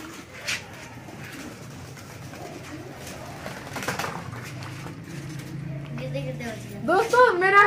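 Pet pigeons coo in low, throaty, repeated murmurs while being fed, close by, with people talking over them and a brief flutter near the end.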